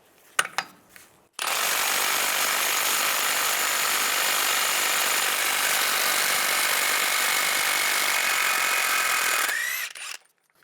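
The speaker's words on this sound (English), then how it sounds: "using a 30mm socket, I'm going to take this nut off" A power tool drives a 30mm 12-point socket to remove the front axle nut on a 1999-2005 Volkswagen Jetta, whirring loudly and continuously for about eight seconds, a steady high-pitched whine, preceded by light clanks and ending abruptly.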